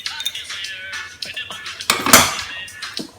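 A spoon stirs a hair mixture containing argan oil in a bowl, scraping and clinking close up in uneven strokes, with one louder rattling swirl near the end and no speech.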